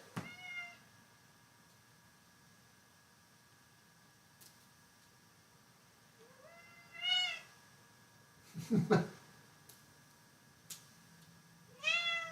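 Doodle, a house cat, lets out four separate meows, some doubled, spaced several seconds apart in a quiet room with a faint hum behind.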